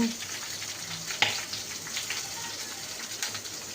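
Onions and green chillies frying in a pan with curry leaves, a steady soft sizzle throughout with a small clink near the start, fairly quiet and with no one speaking over it.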